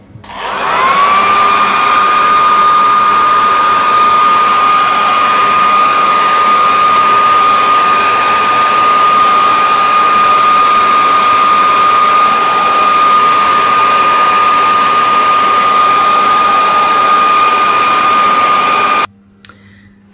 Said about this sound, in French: soit vous branchez votre sèche-cheveux.